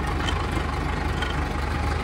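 Mahindra Arjun Novo tractor engine running steadily nearby, a continuous low diesel rumble with no pauses, loud and alone.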